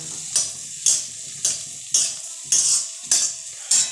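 Finely chopped cauliflower stir-fried for fried rice in a hot pan: a steady sizzle broken by about seven regular, sharp scraping strokes of a spatula, close and alone.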